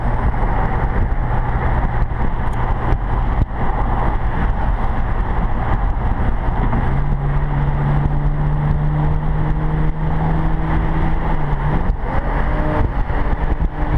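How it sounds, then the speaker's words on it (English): Engine of a 2013 BMW 335is with a JB4 tune pulling hard under acceleration in automatic mode, a loud steady drone that drops and climbs in pitch at a gear change, with no talking. "you can hear the lag between gears, and that's kind of normal when you're just in auto"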